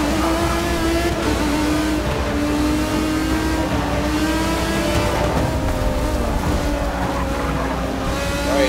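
An Aston Martin engine in the racing game Forza Motorsport 6 roars continuously under acceleration, a loud, sustained rev with shifting pitch and no talking.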